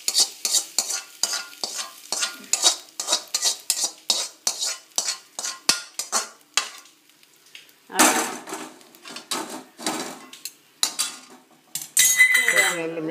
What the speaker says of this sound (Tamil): உப்பு வேணுங்கிற அளவு போட்டு இதை மிக்ஸ் பண்ணுங்க